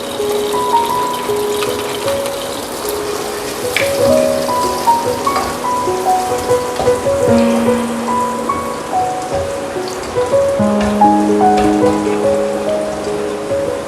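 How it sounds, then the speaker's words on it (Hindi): Steady crackling sizzle of garlic lightly sautéing in hot oil without browning, like light rain, with soft melodic background music running throughout. "लहसुन को थोड़ा सा सौते करेंगे, हमें ब्राउन नहीं करना है इसको।"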